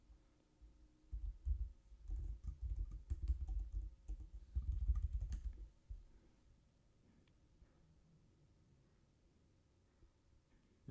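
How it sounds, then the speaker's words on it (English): Fingers type a password on a laptop keyboard in a quiet room, a quick close flurry of soft key clicks for about six seconds, then near silence. "we're going to punch in the admin password of the laptop I'm on"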